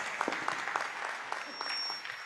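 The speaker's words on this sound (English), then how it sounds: "A round of applause to Ananya Morgis." Brief, fairly faint applause from a youth lab ceremony audience in Addis Ababa, scattered claps blending into a soft crowd clatter.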